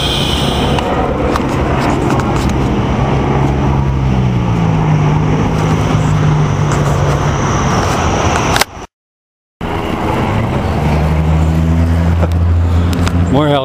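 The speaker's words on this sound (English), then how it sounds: "Here comes the helicopters." A steady loud drone of helicopters passing overhead near the ocean, with a voice speaking over it and a brief dropout midway.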